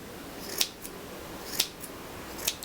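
Sharp scissors snip through a bundle of yarn while a pom-pom is trimmed by hand, giving three crisp, close cuts spaced about a second apart over a quiet background.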